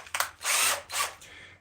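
A power drill runs in short bursts while drilling holes for z-axis rails in a workshop. Two or three brief whirring pulses come close and moderately loud, with short gaps between them.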